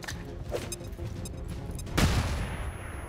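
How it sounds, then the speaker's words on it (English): A flashbang grenade goes off in the XCOM 2 Long War 2 mod, a sharp burst following a few lighter clicks and ticks, with a ringing tail afterward in a fairly quiet game scene. "let's toss out the flashbang on both of these guys"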